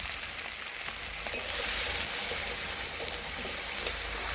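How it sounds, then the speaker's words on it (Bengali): Okra frying in hot oil with a pinch of salt gives a steady, close, broad sizzle that stays even throughout, with faint stirring scrapes mixed in and no talking. "এখন লবণ ভালোভাবে নাড়াচাড়া করে ভেড়ির সাথে মিশিয়ে নেব"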